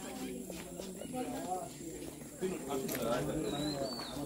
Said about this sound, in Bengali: কি একটা পাখি, নাম জানি না।